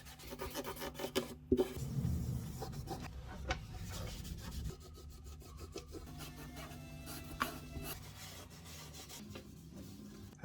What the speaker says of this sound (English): a pumice to clean the instrument. It's some of the finest grade you can get, and that'll be able to remove the layer of dirt